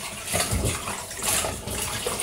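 Water runs and splashes while squid is washed for adobong pusit, an uneven gush with bursts of sloshing as the squid is handled, loud and close with no talking.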